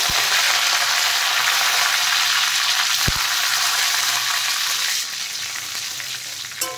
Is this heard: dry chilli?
yes